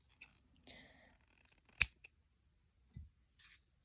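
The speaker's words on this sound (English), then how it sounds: "What you want to do is cut enough to tie your knots in" Old-fashioned scissors snip string cut to length for knotting a Jamaican bracelet, giving a few sharp, separate clicks and snips, one louder than the rest, in a quiet room with no talking.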